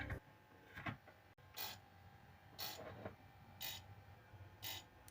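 A Bosch MFW 3640A meat grinder with a repaired control board runs faintly with a mechanical whir, broken by repeated short bursts of clicking and rattling at roughly one-second intervals, suggesting the motor surging under jumping voltage.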